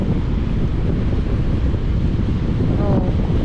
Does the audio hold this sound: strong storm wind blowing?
yes